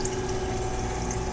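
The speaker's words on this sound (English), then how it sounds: "You can see the water flowing back into it." Water from a pumped water column in an Arduino-controlled level rig flows back into a reservoir below, giving a steady, close trickling and splashing with a faint pump hum underneath and no speech.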